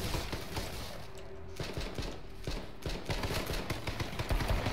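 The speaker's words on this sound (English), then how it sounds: "He's shooting at me, dude." Rapid bursts of gunfire from the H1Z1 battle royale video game, dense overlapping shots and crackling volleys rattling continuously at a steady loud level with no talking.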